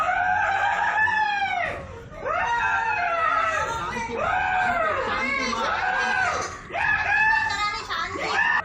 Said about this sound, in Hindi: इस दौरान लड़की दर्द के मारे चिल्ला उठी।